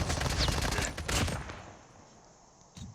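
A dense burst of rapid gunfire in the video game Call of Duty Mobile, loud at first, then fading to near quiet, with a short sharp shot close to the end.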